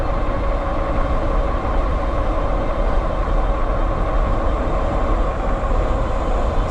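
Steady, continuous rumble and whir from a KKBIKE dual-suspension fat tire e-bike cruising around 30 mph on throttle, motor and tire drone blended with constant wind noise, with no talking.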